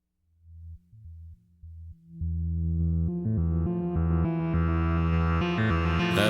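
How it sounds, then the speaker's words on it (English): Electronic synthesizer tones, starting as a few low sustained notes that step in pitch and then swelling into a louder, brighter, layered chord passage with rising overtones, played alone without talk. "I got my synthesizer."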